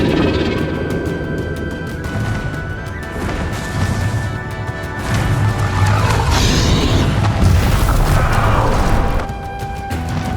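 Confringo fire spell blasts in Hogwarts Legacy, repeated loud booming crashes and bursts layered over a constant roaring combat backdrop with whooshing swells, lasting around ten seconds.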